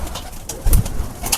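Teddy pigeons coo close by, a soft low throaty burst midway over a background of light rustling and faint ambient noise.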